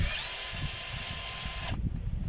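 A power drill removes a screw from an electric element switch with a loud, steady high whine for under two seconds, then stops abruptly, leaving faint clattering.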